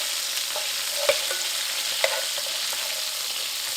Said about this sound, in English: We're just going to do a little quick sear